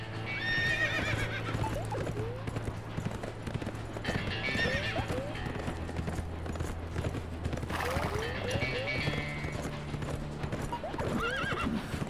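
A horse in the video game The Escapists 2 gallops with a rapid, steady clip-clop of hooves and whinnies several times over the running hoofbeats, along with some mechanical clicking.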